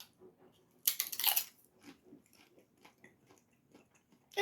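A crunchy chip snack being bitten and chewed up close: one loud crunching burst followed by quieter, scattered chewing clicks, then another sharp crunch at the end.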